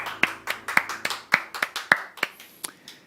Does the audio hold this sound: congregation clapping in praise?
yes